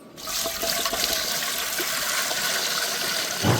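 Water pours steadily into an idli steamer pot in a kitchen, a continuous close gushing splash that holds level for several seconds before a brief louder surge at the end.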